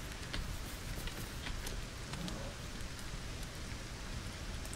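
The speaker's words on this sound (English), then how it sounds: "I guess the rain's falling that way" Rain in Lego Fortnite, a dense, steady hiss of falling drops with scattered sharper patters, even and continuous throughout at a low level with no voices.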